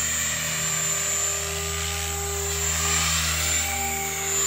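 Small model helicopter flying figure eights outdoors, its rotor and motor making a steady, continuous whine and buzz at fairly close range with no talking.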